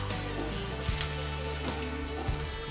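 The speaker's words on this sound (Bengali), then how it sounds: "এবার এটাকে একটু ভাজতে হবে।" Chopped onion and garlic frying in a pan: a soft, continuous sizzle and crackle with a few faint stirring scrapes.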